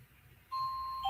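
A doorbell rings halfway through, a clear sustained electronic tone that holds steady and then shifts to a second note at the end, heard indoors after a quiet start.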